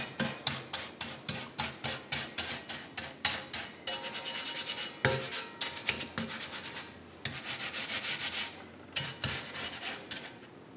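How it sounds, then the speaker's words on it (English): A scrub brush works over wet stove parts in a sink with dish soap, making loud rhythmic bristly strokes in quick bursts, some faster runs, and brief pauses. "Use your scrub brush and scrub."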